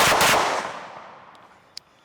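A single loud shot from a Springfield Armory DS Prodigy Comp AOS pistol, followed by a long decaying echo and a faint small click near the end.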